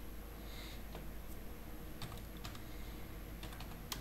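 Typing on a computer keyboard, with sparse key clicks, some in short quick clusters, over a steady background hiss and a faint high whine.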